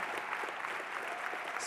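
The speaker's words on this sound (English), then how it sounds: "Give a big round of applause" A crowd claps for people being introduced at a charity fundraising event, brief steady applause at moderate level with no voices over it.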